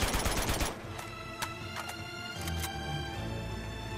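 Rapid gunfire from a shooting fight in Uncharted 2, set in Borneo, opens as a dense burst for about half a second. Scattered single shots follow over a steady background din, with no talk.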